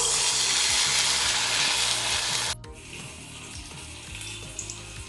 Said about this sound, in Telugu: నూనె వేడెక్కాక ఇలా ఒక్కొక్క ఉండ తీసుకుని ఇలా పిండిలో డిప్ చేసుకుని ఇలా వదులుకోవాలి